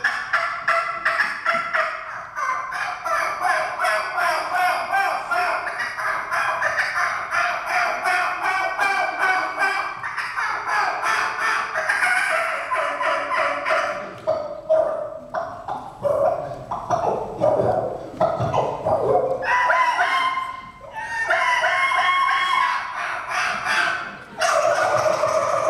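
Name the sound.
imitated wild turkey calls, gobbling and clucking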